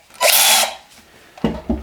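A power drill fitted with a deburring bit for coin ring crafting whirs loudly for about half a second, then a couple of short handling knocks follow.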